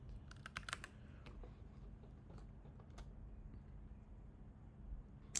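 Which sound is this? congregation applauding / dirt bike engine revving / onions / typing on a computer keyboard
typing on a computer keyboard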